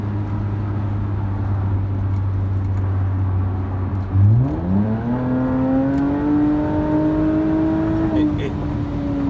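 A 2019 Toyota Avalon fitted with a 9-Drive module accelerates from inside the cabin, its steady engine hum climbing smoothly in pitch after a few seconds and holding a higher whir, moderately loud with faint road noise.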